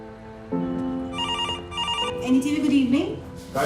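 A desk telephone rings in a busy Indian TV news office, its bell sounding in two short bursts close by, while people talk over and after it.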